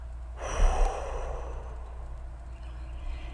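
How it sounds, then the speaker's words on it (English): One long, close breath pushed out slowly during a guided breathing exercise, starting with a soft forceful rush and fading gently over a few seconds against a low hum, with no speech. "And exhale."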